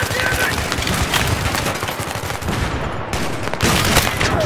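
A Spaz 12 shotgun fires slugs in Battlefield 3, with rapid, loud booming shots layered over dense battle noise and other gunfire, and voices talking.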